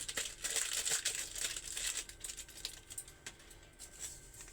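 Plastic bag of powdered milk crinkles and rustles while being handled during dough preparation for baking, a close, steady stream of crisp crackles and rustling snaps with no talk.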